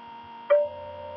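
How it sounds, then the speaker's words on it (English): Neurofeedback software plays two steady, distinct synthesized tones for its simulated channels. They sound together as a continuous hum, with a brief, brighter blip in the middle. "and you can hear the two different tones."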